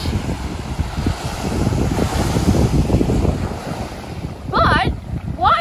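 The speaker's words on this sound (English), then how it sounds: "And this is an amazing beach." Ocean waves wash onto a beach in Fujairah under strong wind buffeting the microphone, a rushing roar that swells and fades, with a brief voice near the end.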